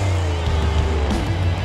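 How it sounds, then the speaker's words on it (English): Gravedigger monster truck engine in the BeamNG Drive video game, a steady loud low rumble as it churns through a mud bog, continuous and close with no pauses. "He's doing really good through the mud bog, getting just a little sideways"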